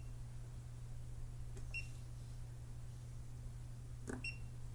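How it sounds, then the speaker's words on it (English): Hioki DT4252 digital multimeter giving two short high electronic beeps as it detects voltage, spaced a couple of seconds apart over a steady low mains hum, with no talking. "And you do get a nice beep when it detects the voltage like that,"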